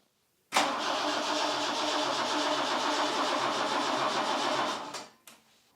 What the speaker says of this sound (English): I'm going to just do it through cranking and see if it fires